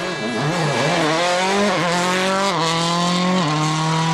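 Rally car on a dry WRC stage in Germany races past, its engine loud and close, revving through rapid upshifts and downshifts with rising and falling pitch.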